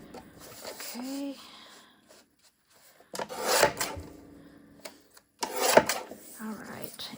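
A paper trimmer slices through altered book pages in two brisk, close rasping passes a couple of seconds apart, separated by quiet handling and brief soft sounds.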